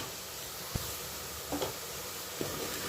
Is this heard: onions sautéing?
yes